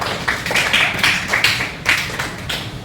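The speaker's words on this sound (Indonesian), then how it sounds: "kita kasih aplaus pada Anela" A classroom gives a student a short round of applause, several hands clapping in a dense, uneven patter that stays fairly close and steady for a few seconds.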